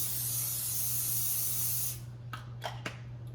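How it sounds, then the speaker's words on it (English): A can of cooking oil spray hisses in one continuous burst for about two seconds while coating a pan, then stops, followed by a few faint clinks and taps. "It's just some cooking oil spray. I gotta coat the pan."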